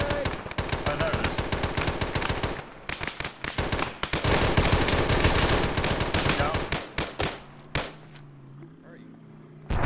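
Rapid, loud machine gun fire in a video game, long sustained bursts of close automatic shots that break into shorter volleys and fade near the end, with players talking over it.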